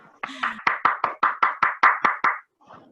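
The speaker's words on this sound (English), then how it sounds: "Let's give a round of applause" During a virtual board meeting, a round of applause comes through as about ten sharp, evenly spaced hand claps close to the microphone, with a brief voice at the start and a faint sound after.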